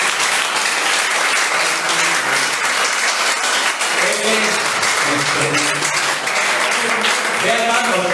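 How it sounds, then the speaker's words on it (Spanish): A church congregation applauds during a sermon, producing loud, sustained, dense clapping with voices calling out over it throughout. "¿Cuánto le damos un aplauso a este Señor?"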